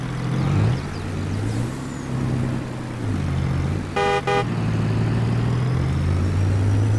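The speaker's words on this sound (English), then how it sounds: "Yeah, that is definitely a different engine sound." A low, steady truck engine drone in Farming Simulator 22 rumbles throughout, shifting pitch slightly, with a brief double honk of a horn partway through.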